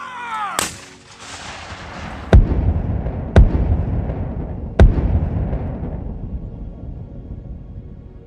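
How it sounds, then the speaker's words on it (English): Heavy cannon booms ring out, one early and three more spaced a second or so apart, each rolling into a long echoing rumble. "frustrated Confederate commanders ordered 53 cannon to concentrate their fire on that area"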